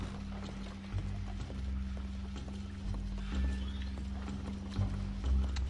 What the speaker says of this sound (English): Oh, my horse! Horse finally made it.